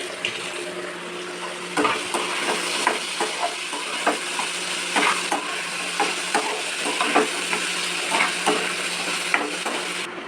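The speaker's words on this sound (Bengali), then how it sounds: "আলু ভাজা হয়ে যেতে তুলে নিলাম" Potatoes fry in hot oil in a pan, giving a steady close sizzle with frequent stirring clatters and scrapes throughout, no voices.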